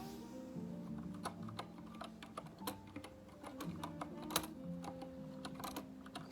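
Quiet, close keys clatter on a computer keyboard in quick irregular bursts of clicks and taps, with a faint tonal hum beneath and no speech.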